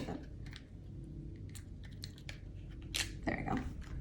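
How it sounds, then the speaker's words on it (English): Paper backing is peeled away from a craft star, giving soft crackling and a brief papery tearing rustle near the end, close and fairly quiet against a faint background. "Sometimes it takes a little more effort to peel off the paper."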